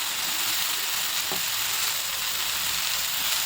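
Fenugreek leaves with turmeric sautéing in a pan make a loud, continuous close sizzle, with a brief scrape of stirring partway through and no voices.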